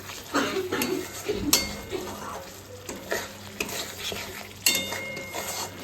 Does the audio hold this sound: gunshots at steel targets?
no